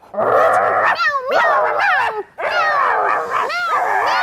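A cute little dog whimpers and yips in loud, close, high-pitched whines with sliding pitch, coming in repeated bursts with a brief pause partway through.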